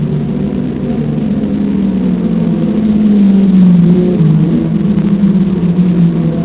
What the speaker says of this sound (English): Car sounds terrible